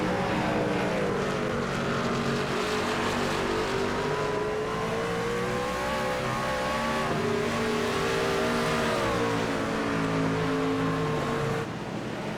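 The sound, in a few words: race truck engines revving at Watkins Glen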